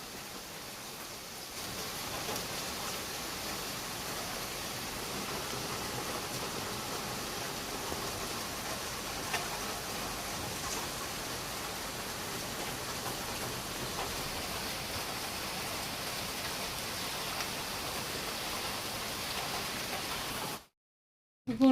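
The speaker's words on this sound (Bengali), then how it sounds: "এই যে প্রচণ্ড বৃষ্টি হইতেছে।" Heavy rain pours steadily in a Bangladeshi village, a dense, continuous hiss that stays constant and fairly close for about twenty seconds before cutting off abruptly near the end.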